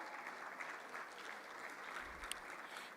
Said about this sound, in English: Let's give Dr. Eric a round of applause as he comes up.